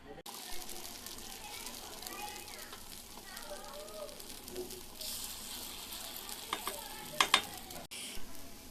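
Appam frying in an appam pan with oil, a soft steady sizzle under nearby talk and children's voices, with a few sharp clinks of utensils near the end.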